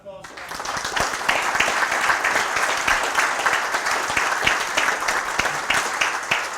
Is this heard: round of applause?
yes